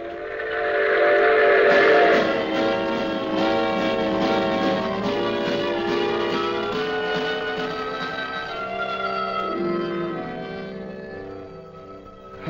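Radio drama sound effect of a moving train, a loud sustained chord of train whistle tones over rolling rail rumble, gradually fading and lowering in pitch as it carries on for about twelve seconds.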